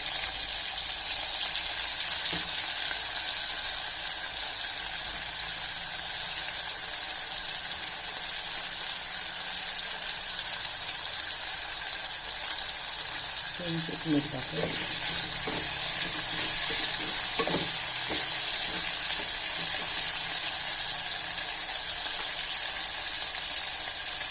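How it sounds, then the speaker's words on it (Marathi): Potatoes roast in a pan for veg pulao with a steady, close sizzling hiss. A short stretch of clattering stirring comes midway, and no one speaks. "नंतर यात टाकूया बटाटे हे पण थोडे रोस्ट करून घेऊया"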